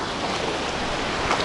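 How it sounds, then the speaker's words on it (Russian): Sea waves rolling in at a beach in Turkey, a continuous broad wash of surf and water rushing close by, loud and steady with no voices. "О, Поль, волна идет, давай."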